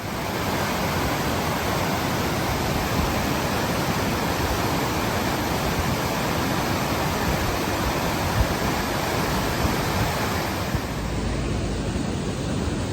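Waterfall beside a mountain road in Italy, a steady, loud, broadband roar of falling water that fills the whole stretch without a break, with no voices over it.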